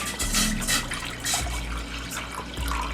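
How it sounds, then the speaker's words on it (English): Water pours steadily into a cooking pan on a home stove, a continuous splashing stream with a few small surges, close and moderately loud, no talk over it. "we're also going to be using 750 ml of water, which we're going to add to our pan"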